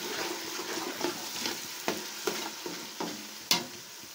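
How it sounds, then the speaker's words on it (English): Tomatoes fry in a pot as the base for omuguo stew, a soft steady sizzle broken by a series of scraping spoon strokes and clinks as the mixture is stirred, with one sharper knock near the end. "Keep stirring the pot and make sure your pot does not get burnt."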